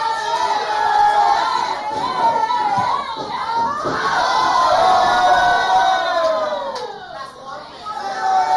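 Wrestling arena crowd at a Clash of Champions show chants and yells loudly and steadily throughout, with a commentator talking over the roar.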